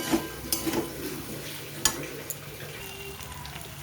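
Poppy seed paste fries in a pan and is stirred, giving a soft, close sizzle broken by a few light clicks of the spoon against the pan.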